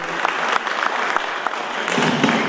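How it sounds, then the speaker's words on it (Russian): Audience applause at a jubilee celebration for a city magazine in Kazan, steady broadband clapping from a crowd filling the hall, moderately loud and continuous with no talk over it. "Ваши аплодисменты, уважаемые друзья,"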